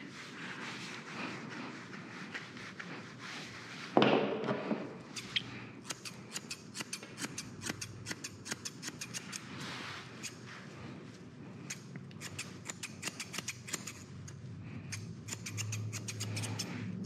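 Scissors trimming the fur of a 16-year-old Westie during grooming, a long run of quick, crisp snips in irregular bursts, close and fairly soft, with a brief louder bump early on and no talking.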